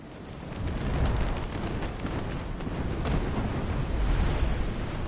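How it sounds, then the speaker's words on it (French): Dense, rumbling explosions from a boss's jumping hammer attack in the video game Dark Souls Remastered roll on continuously, with repeated heavy blasts and crackling debris filling the whole stretch at a steady loud level. "Ces explosions, c'est quand il saute ou quand il donne son coup de marteau"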